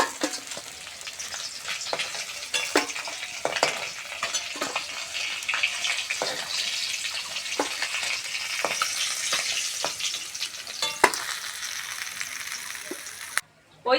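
Pieces of fresh pond pona fish fry in hot oil with a continuous close sizzle, broken by the scrape and clatter of stirring in the pan.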